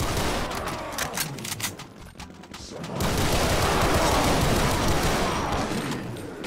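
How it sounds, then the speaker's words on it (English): Rapid gunfire rattles through a Brutal Doom 2 game session, bursts of shots giving way to a dense, continuous fusillade of overlapping weapon fire and blasts, loud and close. "Who the fuck's shooting over there?"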